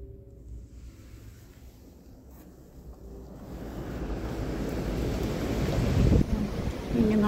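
Strong gusts from Typhoon Ragasa in Hong Kong, starting as a low rumble and building into a loud, roaring rush of wind that buffets the microphone.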